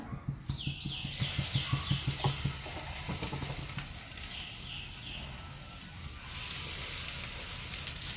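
Pieces of sweet bread snack dipped and frying in hot oil, a dense close sizzle with crackling bursts early on that settles into a steady hiss, no talk.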